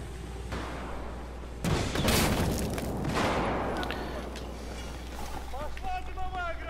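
Gunfire in Battlefield 4, a sudden loud burst of shots with rumbling blasts, echoing over a steady low background hum while players talk.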